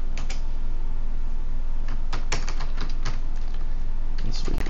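Rapid clacking keystrokes on a computer keyboard while coding a rock paper scissors app, close and steady with uneven bursts, under a continuous hum and possible talk.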